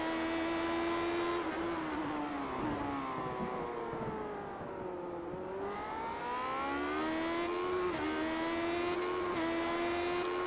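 Classic Lotus Grand Prix race cars lapping Tsukuba Circuit in the iRacing simulator, their high-revving engines whining steadily with pitch falling through braking and gearshifts, then climbing again under acceleration, loud and continuous with no talk.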